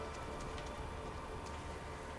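Rain falls steadily in the video game Kingdom Hearts 3, a continuous, even hiss of droplets with no voices over it.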